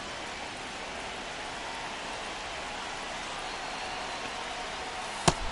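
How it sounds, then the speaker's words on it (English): Steady rain falls during a baseball video game, a constant soft hiss of drops with no voices, broken near the end by one brief sharp tap. "This rain is not letting up."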